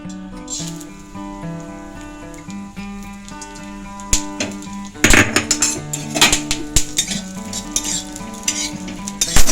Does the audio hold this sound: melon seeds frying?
yes